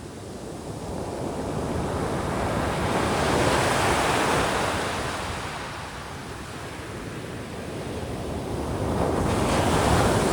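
Ocean waves roll onto a beach on California's Lost Coast Trail, a loud, continuous roar of surf that swells and eases in slow surges, with wind buffeting the microphone.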